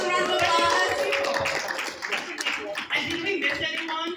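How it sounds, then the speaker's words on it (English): A room of people at a community info session in a banquet hall claps together, a lively burst of applause mixed with cheers and voices, fading unevenly toward the end. "Let's give ourselves a round of applause."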